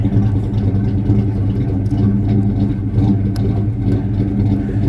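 A 1984 Chevy C10 pickup engine running after starting up, a loud, close, steady rumble with a low throbbing idle and no voices.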